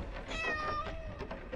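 A cat in the video game Layers of Fear gives one clear, close meow that rises and then falls in pitch, followed by a softer trailing mew.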